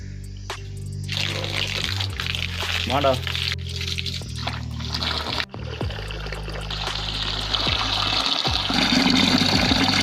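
Water gushes and trickles from a pipe lowered off a roof at a hillside home in Uttarakhand, a continuous splashing flow heard under someone talking, with some thumps and handling noises.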